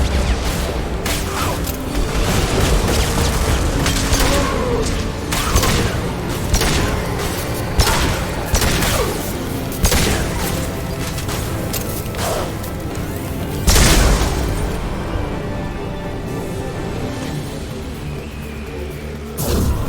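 Heavy gunfire and explosions from the Mass Effect 2 video game, dense and loud, with sustained bursts of shots, booming blasts and crashing impacts that run almost without pause.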